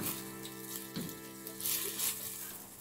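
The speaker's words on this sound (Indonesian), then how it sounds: "Ini kita goreng dengan api kecil ya" Dried rebon shrimp fry slowly in oil over low heat, producing a soft, steady sizzle with faint crackles and a light stir, quiet and close.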